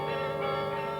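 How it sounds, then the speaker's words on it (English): Carillon bells ring in Delft, some of them original Hemony bells, giving a sustained, resonant tone with rich overtones that hangs steadily through the moment. "Most sizable towns in Holland and Belgium have a carillon."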